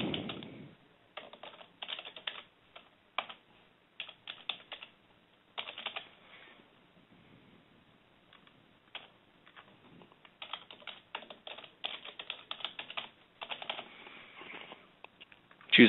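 Fingers type on a computer keyboard, entering an email address in bursts of rapid clicky keystrokes separated by short pauses, close and clear with no talking.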